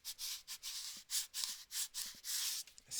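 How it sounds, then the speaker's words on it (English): A large scraper drags across paper in repeated broad strokes, each pass a dry, hissing scrape followed by short pauses, close and fairly loud with no talking. "I'm just going to turn this over and use our scraper"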